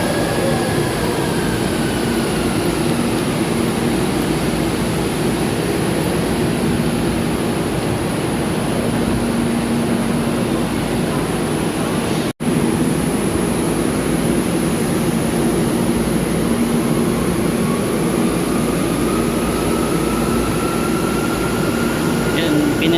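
An MRT 3 train rumbles steadily through a station under rehabilitation, a loud continuous roar and whine of rail cars with faint brake squeals drifting in and out.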